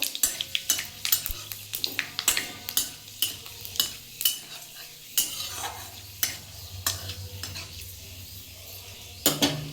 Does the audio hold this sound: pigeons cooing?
no